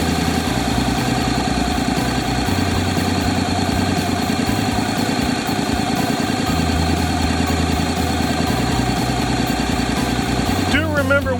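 Honda DCT motorcycle engine idling while in gear, a steady mid-pitched rumble that runs unbroken and fairly loud, with a brief rise in tone near the end.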